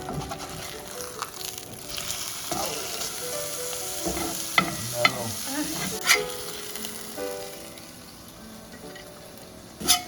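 An egg fries in a pan for a camp lunch, giving a steady, close sizzle and crackle throughout, with occasional sharp clicks and scrapes of a utensil against the pan rising above the hiss.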